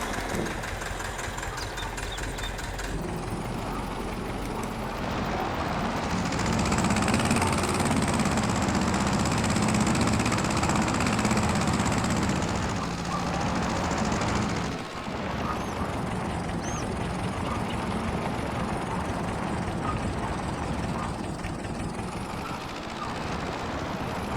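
An old inherited tractor, worn and missing its lamp covers, idles steadily in Farming Simulator 22 on a farm, a continuous low engine rumble that swells louder in the middle and then settles, with no talking.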